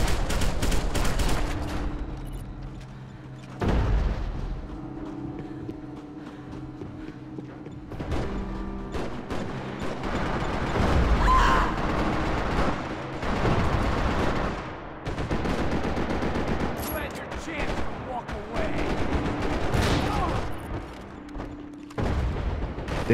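Gunfire in a Max Payne 3 team deathmatch on Xbox 360, with bursts of automatic fire, single sharp shots and heavy booms, irregular and close, separated by quieter gaps.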